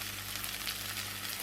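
Green French beans and tomatoes sizzling in a pan, a steady close hiss of frying with no break.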